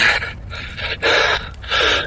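A trekker at high altitude on the trail from Namche Bazaar toward the Everest View point breathes heavily, with three loud, rasping gasps in a steady rhythm, close and without speech.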